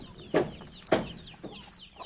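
A few short hen clucks with gaps between them, fairly close, with a faint background of higher bird chirps.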